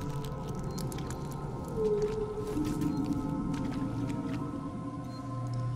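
Wet, squelching organic groans and low creaking moans of an alien hive hatching sound in the nuclear core nest of the horror game Alien Isolation, over a steady low mechanical drone, with no talking.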